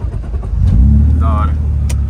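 A modified 400 hp BMW engine rumbles to life and settles into a loud, deep idle up close, with voices talking over it.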